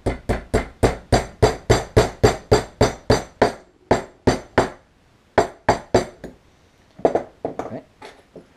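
A hammer taps a part into a G&G GR15 Raider airsoft gearbox during reassembly: a rapid, even series of sharp metallic knocks, a pause, a few more taps, then a softer clatter, all close and loud.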